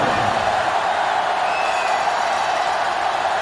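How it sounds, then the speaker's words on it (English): Steady roar of a sellout stadium crowd in the NCAA Football 06 video game during a Penn State versus Virginia matchup, a dense unbroken wash of noise holding at an even level throughout. "This sellout crowd is really making a difference now as these guys can't even call the play."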